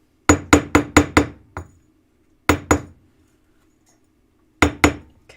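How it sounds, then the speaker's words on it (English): Metal pendant hammered flat against a steel bench block: a quick run of five bright metallic clinks and a softer tap, then two more strikes after a pause and two final blows, close and loud with no talk. "I'm hammering it down to get it to flatten to my bench block."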